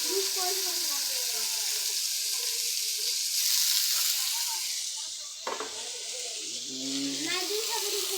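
Chicken fries in a pan with a soft, steady sizzling hiss, fairly quiet and close, while a person talks intermittently over it.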